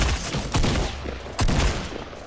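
Rapid bursts of video game gunfire in Fortnite aimed at a bot, two loud clusters of shots close by, the second starting about a second after the first, with no talk.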